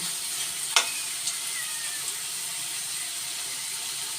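Patola and ground meat sauté in a pan with a soft, steady sizzle, broken by a sharp clink of a utensil and a couple of lighter taps.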